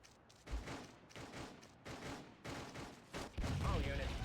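Pistol gunfire in Grand Theft Auto 2, heard as a run of repeated sharp shots at a steady rhythm, moderately loud, with game sounds building near the end.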